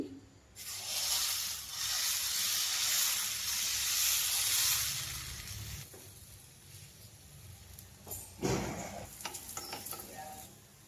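Pesarattu batter poured onto a hot pan, a loud steady sizzle and hiss for several seconds that fades, then a brief fresh burst of sizzling near the end.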